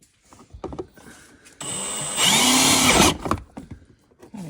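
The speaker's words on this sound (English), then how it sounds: "You're gonna drill it." A power drill whirs for about a second and a half, rising in pitch as it bites into material while mounting rock lights on a 2021 CFMOTO 600 touring vehicle, with brief clatter and handling before and after.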